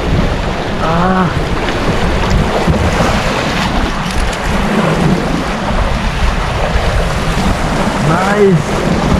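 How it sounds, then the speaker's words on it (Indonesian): Strong wind buffeting the microphone on a boat at sea during fishing near an uninhabited island, a loud continuous roar with churning water, and brief voices breaking through now and then. "Duh, angin."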